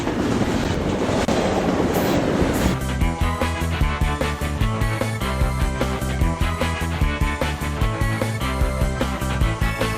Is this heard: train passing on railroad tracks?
yes